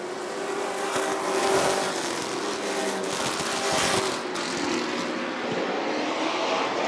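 Sportsman race cars roar around the Rockford Speedway oval, a dense, loud broadband engine wash that swells and fades as cars pass, with no voices over it.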